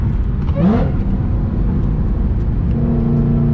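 A built 1000hp supercharged Mustang GT500 engine hums steadily, then its pitch drops and settles as it downshifts, with a low rumble throughout.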